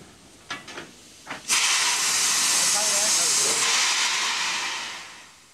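A Hunslet 1953 austerity saddle tank steam locomotive, Royal Engineer number 198, shunting: a few short sharp chuffs, then a loud, sustained steam hiss blasting nearby for several seconds before easing off.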